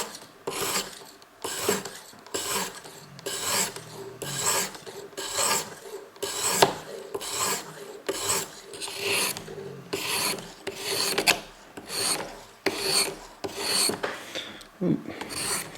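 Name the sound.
ViperSharp knife sharpening system sharpening a knife blade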